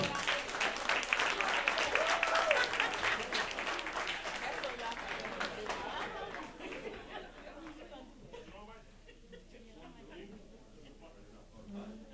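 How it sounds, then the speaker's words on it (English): Theater crowd at the Palace Theater gives a loud round of applause welcoming a smooth jazz trio; the dense clapping fades after several seconds into scattered claps, murmuring chatter and light laughter. "Let's welcome, with a big round of applause, the Steve Clarke Trio."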